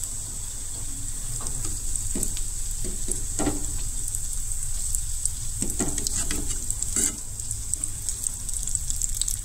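Food frying fast in a pan, a continuous loud sizzle with scattered pops and sharp crackles, plus occasional stirring clatter.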